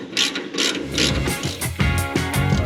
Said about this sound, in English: Let's go ahead and put some torque on these things a little bit.